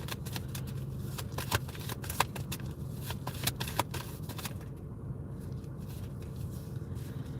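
Tarot cards being shuffled for a reading, a steady run of crisp riffling and flicking close to the microphone before the deck settles into quiet.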